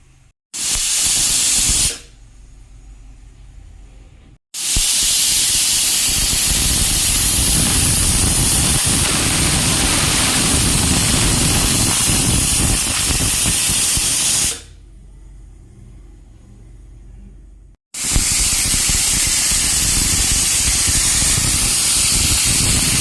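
A pressure cooker boiling potatoes lets out loud, sustained whistling jets of steam, two long bursts each lasting about ten seconds. Quieter spells of low bubbling separate them.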